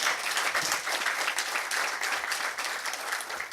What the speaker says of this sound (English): Can you join me to give a round of applause to our panelists?